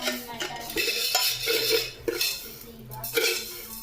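A spoon clinks against a metal pot while sugar goes into boiling water for cooking peas, with several close, irregular scrapes and taps over a low bubbling bed.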